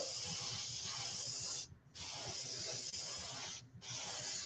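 An airbrush sprays Testor's Aztec Silver paint onto a fishing lure, a close steady hiss in two long bursts separated by brief pauses.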